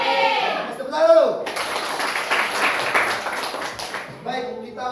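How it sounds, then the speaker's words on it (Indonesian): Students clap together in a junior high school classroom, a ragged burst of hand claps in the middle, with a voice speaking before it and again after it fades. "Tepuk tangan dulu."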